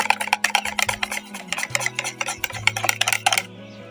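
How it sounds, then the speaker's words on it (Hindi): Besan batter for boondi is beaten briskly in a bowl, a rapid rhythmic run of close scraping, slapping strokes that stops abruptly near the end, with a faint steady hum underneath. "तो फ्रेंड्स अब इसे हम 5 मिनट तक अच्छी तरह से मिक्स करते हैं"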